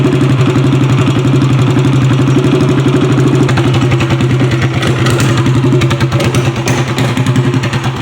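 A boat engine runs loud and close in a steady, throbbing drone that roughens and wavers as it bogs down, with no talking over it.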